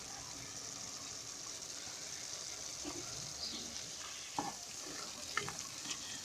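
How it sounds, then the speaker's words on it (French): Meatless bolognese sauce simmering in a pot gives a steady low sizzle and bubble, with a few soft clinks and stirring knocks near the end. "je laisse mijoter"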